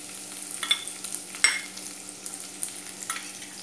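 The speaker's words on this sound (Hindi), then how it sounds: "दोनों को सौटे कर लेंगे।" Ginger and garlic sautéing in a pan for Schezwan veg Hakka noodles, a quiet steady sizzle with soft scraping stirs and small clicks of a spoon, no one talking.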